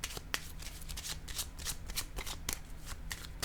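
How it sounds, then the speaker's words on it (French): Tarot cards are shuffled and laid down close by, in quick quiet riffles and soft snapping flicks with short pauses between. "Je vais déposer une autre carte."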